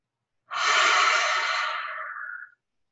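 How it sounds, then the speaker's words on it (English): A single deep breath drawn in during a yoga session, one long smooth inhalation lasting about two seconds, close and clear, then silence. "Take a big breath in."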